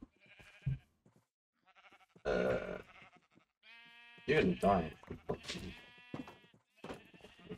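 Sheep in the video game Minecraft bleat several times in short, wavering calls, close and clear, mixed with loud excited talking from a player.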